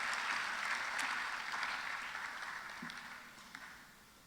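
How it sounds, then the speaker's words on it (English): Audience applause at a national cybersecurity event in Ghana, a steady broadband wash of clapping that fades gradually over a few seconds, moderately distant with no talk over it. "a round of applause."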